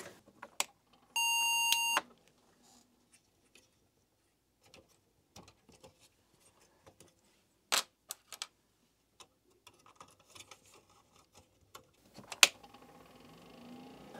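A vintage Apple computer fitted with a bad 30-pin memory module sounds one steady electronic beep of about a second, followed by sparse quiet clicks and ticks of handling in a hushed room.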